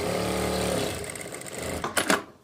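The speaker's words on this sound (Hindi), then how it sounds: "इस तरह से ये सिलाई हमने ऊपर तक लगा ली है" A sewing machine runs steadily as it stitches a palazzo pant seam at a fixed one-inch allowance, a continuous close motor hum for about two seconds that then slows into a few short bursts before stopping.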